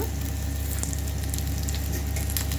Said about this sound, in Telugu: ఫ్రై అవుతుంది కదండి దానిలోనే కొంచెం వెల్లుల్లిపాయలు కూడా వేసేస్తాము